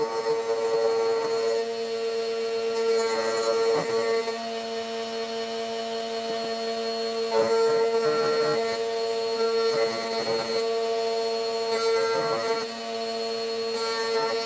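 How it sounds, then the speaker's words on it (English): A homemade router table shapes the bottom of a wooden candle holder: a steady, loud motor whine with a strong sustained tone, changing slightly in pitch as the wood is fed through, continuous for the whole stretch. "I did want to use and show off my fancy new router table that I built last week"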